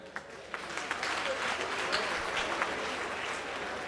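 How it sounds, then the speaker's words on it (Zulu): Crowd applause and clapping at a presidential imbizo community gathering in Umgababa, KwaZulu-Natal, a steady, dense wash of many hands sustained for several seconds, with scattered louder claps. "Sishayele umongameli ihlombe"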